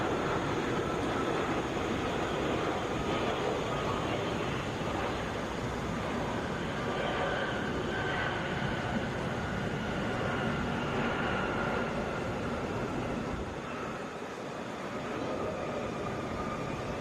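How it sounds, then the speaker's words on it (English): Delta Boeing 757 airliner from Philadelphia touching down at Atlanta airport, a steady broadband engine roar with reverse-thrust rumble filling the whole stretch, loud and continuous with no voices. "Touching down here, Delta 2270 from Philadelphia, Boeing 757"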